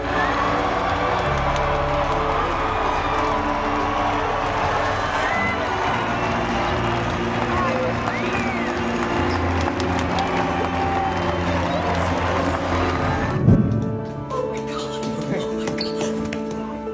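A huge crowd cheers and applauds as a soldier proposes to his girlfriend, a loud, steady roar of voices and clapping sustained throughout before dropping off abruptly near the end.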